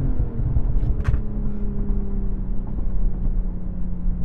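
A 382 hp BMW M440i xDrive Gran Coupe accelerates in Sport Plus with manual shifts, its engine a loud, close, low rumble whose tone climbs steadily, with a short sharp burst of noise near the start.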